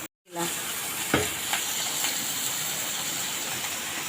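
Dried red chillies and five-spice seeds hit hot oil beside prawns in a pan, bursting into a loud, steady sizzle after a brief silence. A few sharp crackles and spits stand out against the constant hiss.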